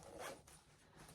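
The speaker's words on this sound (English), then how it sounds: "And this little zipper pouch." Zipper of a small zipper pouch being pulled, a faint quick rasping zip followed by a softer second stroke, close and quiet with no talking.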